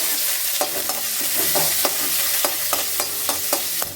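Chopped shallots and garlic frying in a pan give a loud, constant sizzle broken by regular scraping strokes of a spoon about every half second, close by and without voices.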